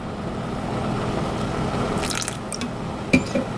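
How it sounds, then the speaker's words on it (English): Vegetable stock and liquid smoke poured into a pan on the stove, heard as soft, steady liquid trickling and dripping with a few light splashes near the end, close and fairly quiet. "I'm just gonna add the vegetable stock and the liquid smoke."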